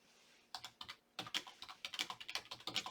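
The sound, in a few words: typing a search query on a computer keyboard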